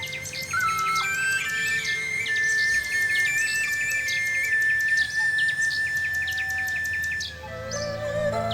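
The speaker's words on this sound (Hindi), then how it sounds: "वहां से जाते वक्त उन्हें बुलबुल की मधुर आवाज सुनाई दी" A bulbul sings sweetly in a quiet setting: a close, clear run of bright chirps and warbles with one long sustained whistled note, steady and alone without talk.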